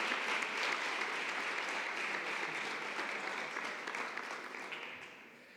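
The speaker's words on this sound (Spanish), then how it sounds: "un fuerte aplauso para ellos" Audience applause at a town hall ceremony honouring local athletes in Onda, a steady wash of many hands clapping that holds evenly then begins to fade toward the end, with no talk over it.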